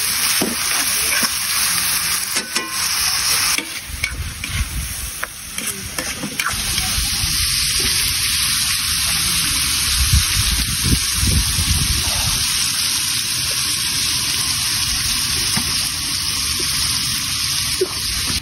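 Tomatoes sautéing in a pan until they soften, a loud continuous sizzle with stirring scrapes and crackles, close and steady throughout.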